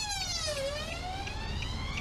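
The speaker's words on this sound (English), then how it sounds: "Cheers, ambulance." An ambulance siren wails with a steady sweeping tone, moderately distant and passing by, heard alone without talk over it.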